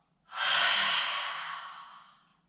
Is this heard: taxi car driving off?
no